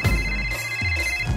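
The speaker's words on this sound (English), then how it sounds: "Let's call her. It's ringing." A telephone rings in repeated bursts, the ring tone sounding steady and close against a low background hum.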